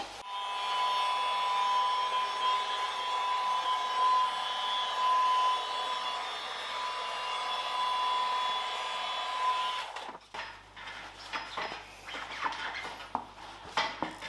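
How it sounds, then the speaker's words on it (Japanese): A heat gun blows a steady, loud hot-air roar while warming a dented used bumper for a Mazda RX-7 FD3S. After about ten seconds it cuts off, leaving scattered scraping and tapping sounds. "ヒートガン、これで炙って柔らかくして押し出す。"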